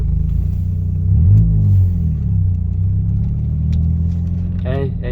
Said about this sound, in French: Pour un mazout, ça fait du bruit